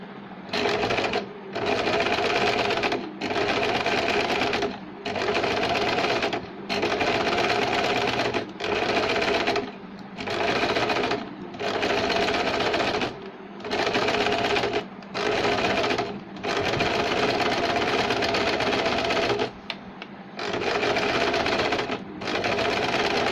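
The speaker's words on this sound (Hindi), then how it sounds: "अब हम ये जो हमारा बुकरम है इसके किनारे किनारे हम सिलाई लगाएंगे" Sewing machine stitching along the buckram edge of a blouse back neck, running in loud, steady whirring bursts of about two seconds each with short pauses in between, repeated throughout, close by and without speech.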